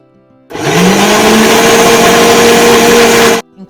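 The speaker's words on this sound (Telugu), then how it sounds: "ఇంక ఇప్పుడు మిక్సీ జార్ తీసుకొని ఆ మిక్సీ జార్లో వేసేసుకోవాలి" Mixer grinder blending ripe mango pieces in a juice jar, its motor starting suddenly with a rising whine, then roaring loud and steady for about three seconds before cutting off abruptly.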